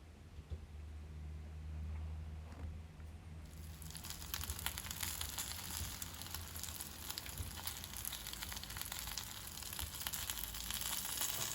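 Chicken wings sizzle while grilling in a pan, a quiet low rumble that turns into a dense, steady crackling hiss after a few seconds and continues evenly, no talking.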